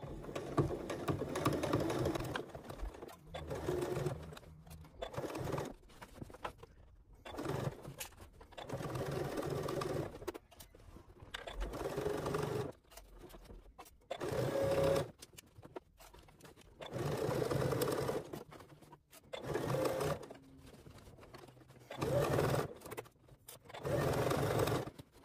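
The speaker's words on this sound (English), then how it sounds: "We stitched it nice and neatly all the way around" Sewing machine stitching fabric around a curved circular edge for a bunny Easter basket, running in a series of whirring bursts of a second or two each, separated by short pauses, close and moderately loud, with no talking.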